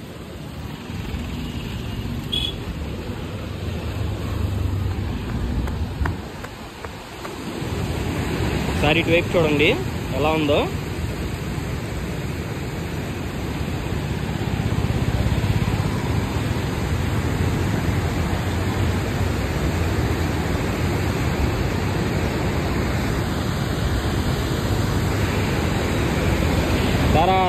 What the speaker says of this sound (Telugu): చూస్తున్నారు కదా ఎంత ఫోర్స్గా అయితే వాటర్ వెళ్తున్నాయో